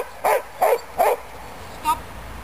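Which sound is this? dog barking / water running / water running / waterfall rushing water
dog barking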